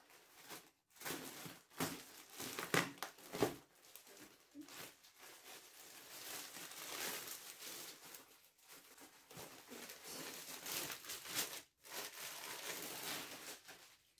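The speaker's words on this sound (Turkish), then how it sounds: "Şimdi paketleri açalım." Packages of fabric from an online order are opened with faint, irregular bursts of crinkling and rustling packaging and short pauses between handlings.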